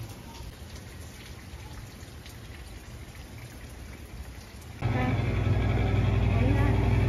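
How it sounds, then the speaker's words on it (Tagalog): Steady rain patters and hisses throughout, growing noticeably louder and heavier partway through, with a low rumbling undertone. "Ulan na, ngayon lang."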